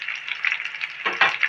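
Onion and tempering spices such as dried red chilli and curry leaves frying in hot oil for an Andhra-style stuffed brinjal curry, a steady close crackling sizzle with a brief stir partway through.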